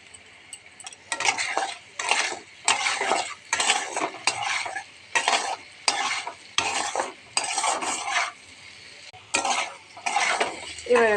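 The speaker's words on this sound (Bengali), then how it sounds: "এবার আমি পেঁয়াজটা দিয়ে দিলাম আর একটু ভাজবো।" Onion and chowmein stir-fried in a pan, with repeated rhythmic bursts of spatula scraping and tossing over a sizzle, about a dozen strokes in a steady pattern, close and loud.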